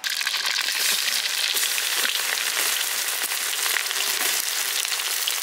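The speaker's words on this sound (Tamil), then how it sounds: "பூண்டு இஞ்சி நல்லா வதங்கி வந்துருச்சு." Garlic, ginger and green chillies fry in oil after mustard seeds, a dense, loud, even sizzle close by that holds steady throughout for a conch curry, with no voices.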